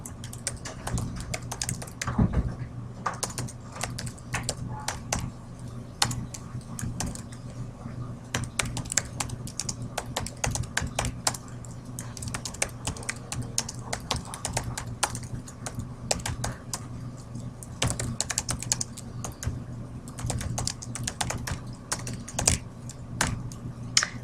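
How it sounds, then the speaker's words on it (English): Computer keyboard typing of labels into spreadsheet cells clatters in quick irregular keystrokes throughout, close and moderately loud over a low steady hum. "I'm going to type the following labels in the cells indicated."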